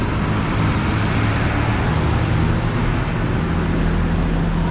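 Continuous street traffic roar in Bangkok's Yaowarat Chinatown area with a city bus engine rumbling nearby, steady and loud throughout, with no distinct horns or voices.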